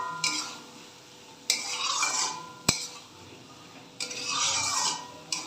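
Spices cooked down with small splashes of water in a pan, stirred steadily: a wet, rasping scrape repeats in long strokes with short gaps and one sharp tap of the spoon on the rim, close and fairly quiet.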